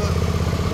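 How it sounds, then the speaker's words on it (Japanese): A new 2013 Suzuki V-Strom 650 motorcycle engine idling close by, a steady low throbbing rumble with rapid even pulses and no talk over it. "エンジン音聞かせてもらえるかな"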